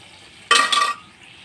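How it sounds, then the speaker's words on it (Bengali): Tandoori-masala marinated chicken hitting a little oil in a pan over a village clay stove, a short sharp hiss and sizzle lasting about half a second before fading back to quiet. "এখন হালকা তেলে বেজে নিচ্ছি"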